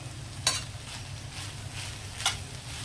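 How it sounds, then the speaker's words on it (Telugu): Grated coconut is stirred into frying ivy gourd, with a quiet steady sizzle and two distinct scraping strokes of the spoon against the pan, close and unaccompanied by voices. "ఇప్పుడు మనం కొబ్బరికూర వేసేద్దామండి"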